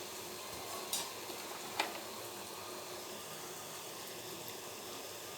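Jalebi batter frying in hot oil gives a steady, soft sizzle, with a couple of faint clicks near the start and no talking.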